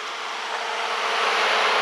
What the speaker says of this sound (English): There, the fan just kicked on. Hear it?